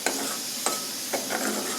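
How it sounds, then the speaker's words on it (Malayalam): Raw blended tomato paste is sautéed in a pan with a soft steady sizzle. A spoon scrapes and stirs through it in several distinct strokes, close and clear, with no talking. "ഇതും ഇനി ഒന്നിങ്ങനെ വഴറ്റി"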